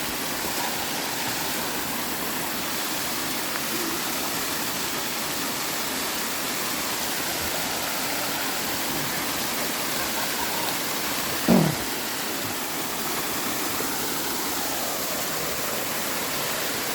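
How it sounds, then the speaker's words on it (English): A creek runs down through Hells Hollow in McConnells Mill State Park, a steady broadband rush of flowing water close by and alone, with a single brief knock around the middle. "see the creek running down through here"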